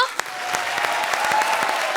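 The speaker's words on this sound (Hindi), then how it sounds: "हंसी के सबसे बड़े दरबार में स्वागत है, जोरदार तालियां" Studio audience on a TV comedy show applauds to welcome film director David Dhawan, a steady two-second burst of dense clapping, loud and close, with scattered sharper claps standing out.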